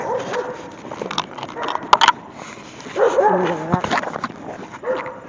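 Dogs barking, yipping and whimpering at a dog park, scattered bursts of barks near and farther off, with people talking faintly in the background.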